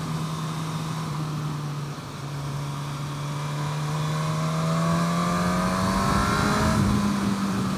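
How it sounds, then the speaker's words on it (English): A 2017 Suzuki GSX-S1000 motorcycle engine drones smoothly while riding, a steady, loud hum that slowly climbs in pitch as the bike gathers speed, with wind noise around it. "These engines are just so well balanced."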